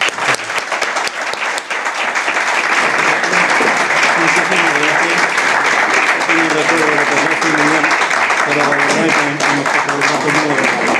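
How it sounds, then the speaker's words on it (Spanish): Loud, sustained applause from an audience at a bullfighting club event honoring a matador, many hands clapping densely throughout, with crowd voices and some speech mixed underneath. "aparte del aplauso que le pido para el maestro"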